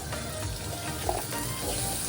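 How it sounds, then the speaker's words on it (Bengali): Cut potatoes fry in hot oil in a wok, making a constant close bubbling sizzle that runs without a break. "এখানে কড়াইতে তেল গরম হয়ে গেছে, আমি আলুটা কড়াইতে ভাজতে দিয়ে দিলাম"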